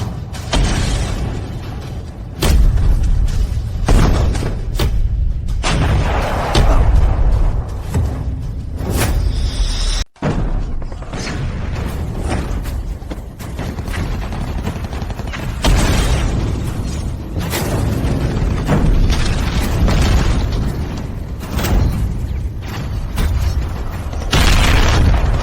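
Tank cannon fire in a battle scene, heavy booming blasts with mechanical clatter repeating throughout, loud and dense with a brief sharp cut near the middle.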